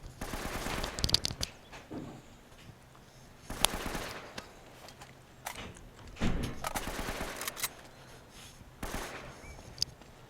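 Gunfire fills a firefight in Uncharted: Drake's Fortune, with rapid automatic bursts and scattered single shots in short uneven volleys, fairly close and sharp, and no speech.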